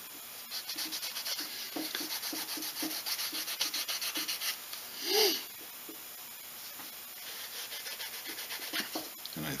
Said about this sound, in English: Everybody needs to find a way of burnishing that works for them.